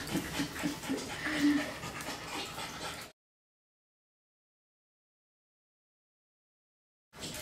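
A small schnauzer mix puppy at a dog rescue pants and whimpers softly at close range for about three seconds, then the sound cuts to silence before briefly resuming.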